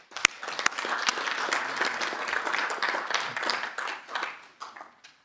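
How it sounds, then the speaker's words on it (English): An audience at a council meeting breaks into sustained applause, a dense wash of many hands clapping at steady volume before thinning out and tapering off near the end. "so give them a round of applause"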